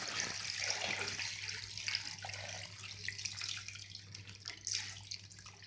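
Water poured into chicken with spices, chili, salt and turmeric in a kadhai, a steady faint splashing stream lasting several seconds with no talk.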